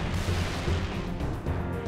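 Heavy weapon fire from a carbine in the PC version of Halo 3: ODST, a dense, continuous barrage of booming shots and bursts that stays loud throughout without speech.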